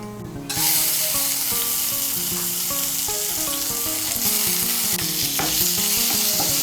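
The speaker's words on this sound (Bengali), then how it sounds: "চালটাকে মিশিয়ে নেব, ঘিয়ের সঙ্গে মিশিয়ে নিয়ে চালটাকেও ভেজে নেব" Rice being stirred and fried in ghee with cashews in a pan, a loud continuous sizzle close up with repeated scraping and stirring clatter, no voices.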